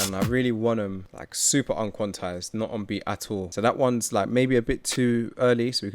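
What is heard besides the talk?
No everyday noise stands out behind the speech.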